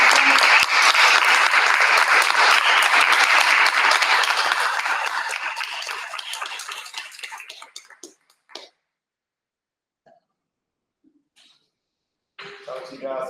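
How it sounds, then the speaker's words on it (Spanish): Conference audience bursts into loud, steady applause that gradually fades out over several seconds, leaving near silence with a few scattered claps before a voice starts speaking. "Tenemos un aplauso otra vez, chicas."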